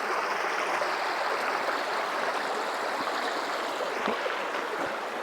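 Waterfall and creek water at Basin Creek in Doughton Park rush in a steady, full-bodied roar that holds even throughout, close by and with no voices.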